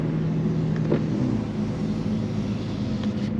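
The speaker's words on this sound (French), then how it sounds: "Je vais laisser un tout petit peu ouvert histoire que vous entendiez un minimum le bruit du moteur et du passage des rapports." Cabin of a BMW M3 CS with 580 horsepower, its engine a low steady rumble heard from inside with a window slightly open, no voices over it.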